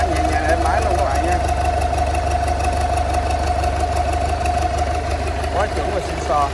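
Used Yanmar 4LM marine diesel engine, 72 hp, running in gear on test, giving a steady, loud continuous drone with a faint knocking rhythm throughout, with occasional speech over it.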